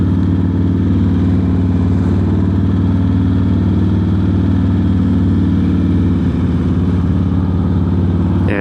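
A Harley motorcycle cruising steadily on an open ride, its deep, loud engine rumble constant and throaty throughout, with a slight shift in pitch near the end.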